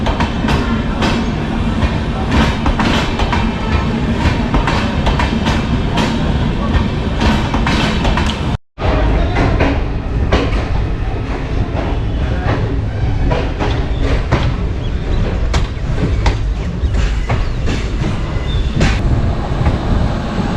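The Danapur Jansadharan Express running at Danapur station in India, a loud steady rumble of wheels and carriages with rhythmic clatter heard from on board, broken by one brief dropout.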